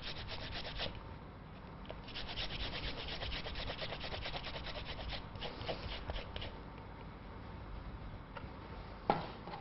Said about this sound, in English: I'm going to use some ginger, which I'm going to grate into the marinade